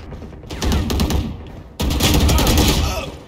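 Vandal rifle fire in Valorant, two loud close bursts of rapid automatic shots separated by a short gap.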